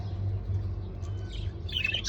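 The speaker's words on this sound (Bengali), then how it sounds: "ঝগড়া করতেছে এই ডিম নিয়ে।" Two pet birds quarrel over eggs, giving quiet, high chirps and short scratchy calls that rise toward the end, over a low steady hum, with no talk.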